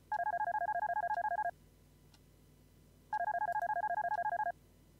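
Telephone ringing in the horror game Darkness Within: two long bursts of rapid, warbling electronic trilling, each about a second and a half, separated by a pause over a low ambient hum, with no talking.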